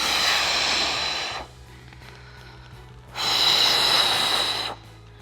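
Controlled breathing during a bird dog plank exercise: two long, close, breathy exhales separated by a quiet pause, strong and steady, with no talk over them.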